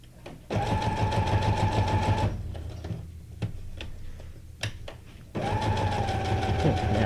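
A sewing machine stitches a paper junk journal tag in two loud rapid bursts of mechanical clatter, separated by a quieter pause filled with scattered ticks and clicks.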